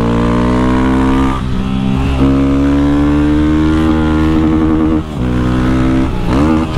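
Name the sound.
motorcycle accelerating hard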